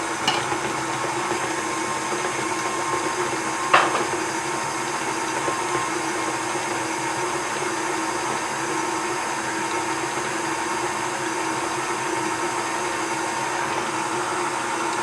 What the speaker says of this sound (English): So you want to start your mixer off slow.